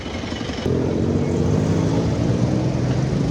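A jeepney engine idling and rumbling nearby with a steady low drone, growing louder after a brief change, no voices over it.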